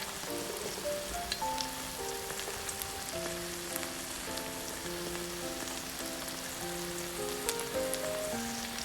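Drained butterbur stems stir-fry in perilla oil with garlic and scallion, a faint, rain-like crackle of sizzling with occasional pops beneath gentle background music.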